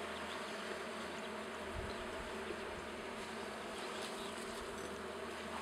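Honey bees buzz around an open hive during an inspection, a dense, steady drone of many insects close by and fairly soft, with no voices.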